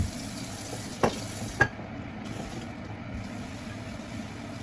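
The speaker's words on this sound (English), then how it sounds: "Stir it." Bitter gourd with egg stirred in a frying pan, a soft low sizzle with two sharp utensil knocks near the start and an otherwise steady hiss.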